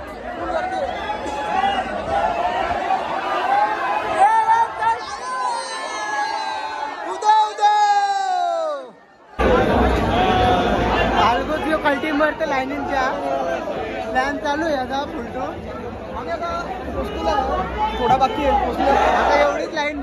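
Dense crowd chatter and babble at the Ekvira palkhi festival procession, a continuous loud hubbub of many voices with occasional whoops, briefly dropping out before resuming at full strength.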